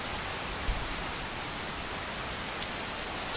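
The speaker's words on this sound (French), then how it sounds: "Oh il pleut encore." Steady rain falls in Skyrim, a dense, even hiss of drops with no pauses, moderately loud and uninterrupted by voices.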